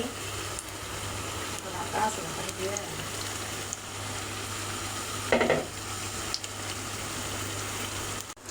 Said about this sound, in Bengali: এগুলো ভেজে নিব সুন্দরভাবে